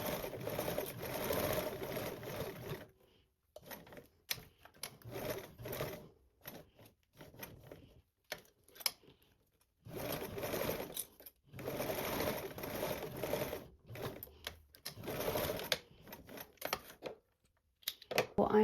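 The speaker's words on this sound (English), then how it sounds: "I'll baste around this with a 1/8 seam allowance." A sewing machine bastes a seam with a 1/8 inch allowance, running in repeated bursts of rapid stitching separated by short pauses, close and fairly quiet.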